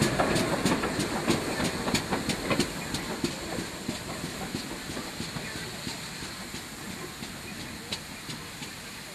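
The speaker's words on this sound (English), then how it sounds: "She's arriving with a solitary observation coach and doesn't hang around to get on with the" GWR steam locomotive 5526 pulling a single observation coach, passing close with rhythmic wheel clatter and hiss that fade gradually over several seconds while a narrator talks over it.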